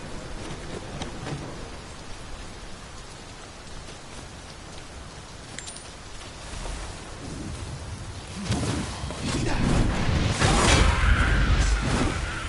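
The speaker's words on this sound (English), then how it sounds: "It started raining" Steady rain hisses throughout in the video game Dragon's Dogma 2, and midway a deep thunder rumble builds and rolls loudly through the final seconds.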